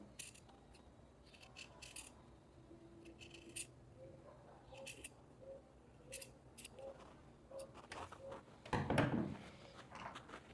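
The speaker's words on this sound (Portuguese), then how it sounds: "Vou refilar essa costura, então vou cortar bem rente a ela." Scissors snip in short clustered bursts, trimming fabric close along a sewing seam on a blouse, faint and near, with a pause and some handling rustle before a louder burst near the end.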